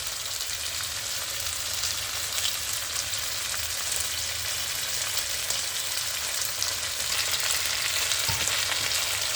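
Pasta with seasoned meat hisses in a hot pan in a constant, close sizzle while it is stirred, steady and loud with no talking.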